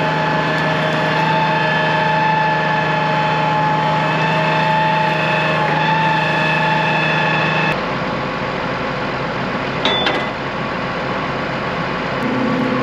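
A Case IH MX285 tractor's engine runs at a steady idle with a droning hum. Partway through, the tone shifts to a slightly lower, rougher rumble, and there is no talking.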